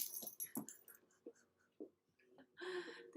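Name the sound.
dog whimpering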